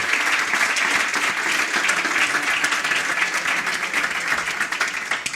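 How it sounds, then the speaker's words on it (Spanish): Sustained applause from an audience at a Ser Málaga business forum on Andalusian cooperatives, many hands clapping in an even, continuous roar at moderate loudness. "el primer aplauso para Ser Málaga y para Jesús Sánchez y el equipo"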